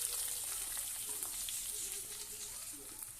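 Garlic, onion and chilli frying in oil with cumin and whole spices for a fish-head dal, a soft steady crackling sizzle heard faintly and evenly throughout, with no talking.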